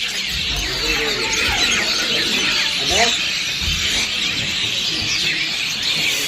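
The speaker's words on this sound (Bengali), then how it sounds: "এই যে এত সকালবেলা, মানে এত পাখির ডাক, সাধারণত আমি যেখানে থাকি সেখানে আমি শুনতে পাই না।" Roosters and many birds call in the early morning in rural Purulia, with crowing, clucking and squealing calls rising over a steady outdoor background.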